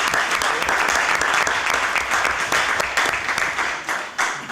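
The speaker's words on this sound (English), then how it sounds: "Give him a big round of applause." Audience applause fills the room at an event honoring a constitutional lawyer and professor, a dense, steady clapping from a sizable crowd that holds strong throughout with only slight dips.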